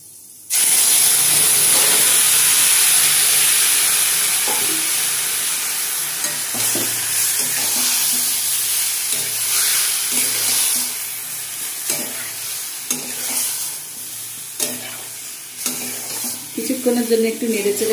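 Lote fish (Bombay duck) hits hot white cooking oil with fried whole spices and erupts into a loud, steady sizzle after a brief silence, then settles into softer frying broken by the scrape and clatter of stirring.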